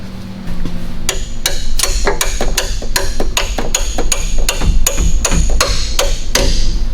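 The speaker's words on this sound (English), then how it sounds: "Where's my hammer?" Repeated hammer blows drive an engine mount bolt into its hole on an El Camino being fitted with a turbo LS swap, a steady run of sharp, loud metallic strikes close by.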